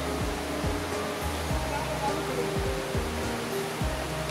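Water rushes steadily over rocks at the second stream crossing on the Devkund waterfall trek in Tamhini Ghat, a continuous broadband wash close by, with low thumps and a voice talking over it.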